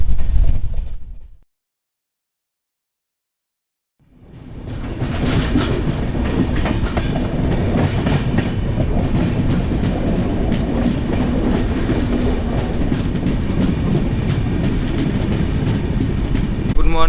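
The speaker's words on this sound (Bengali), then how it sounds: "আর আমাদের ট্রেন এই বোলপুর থেকে মালদা টাউন 185 কিলোমিটারের দূরত্ব কভার করবে।" Darjeeling Mail passenger train running on rails between Bolpur and Malda Town, a steady loud rumble with rhythmic clickety-clack of wagon wheels after a brief silent gap, continuous and close throughout.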